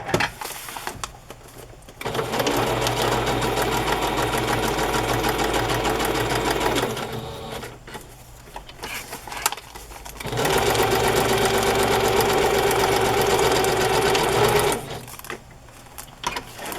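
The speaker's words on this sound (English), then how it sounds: "I am just going to sew this on as a tuck spot" A sewing machine stitches a paper piece for a junk journal in two steady, whirring runs of several seconds each, separated by short pauses.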